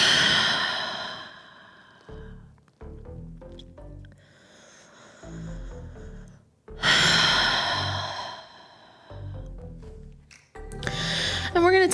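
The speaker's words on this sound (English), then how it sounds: "breathing here." Slow, audible breaths taken while holding child's pose in a power flow yoga class, long exhalations alternating with quieter pauses and soft rustles, close to the mic with no speech in between.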